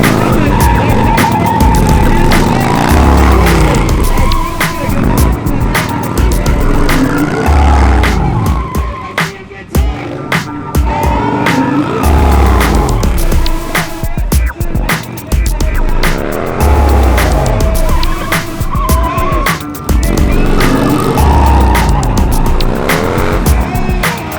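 Drift cars launch and race side by side at a drifter drag event, engines roaring loudly and continuously while tires squeal and skid, with a voice faintly under the din.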